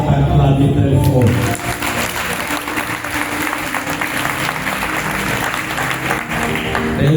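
Audience applause and cheering at a French-language church teaching session, a dense steady wash of clapping that swells loudly at the start and continues strongly throughout, with voices mixed in.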